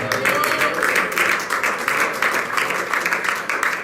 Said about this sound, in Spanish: ¿Qué tal si da un aplauso al Señor, hermano?